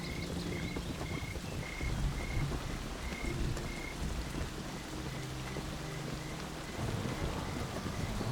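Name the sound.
heavy rain and thunder on the Serengeti plains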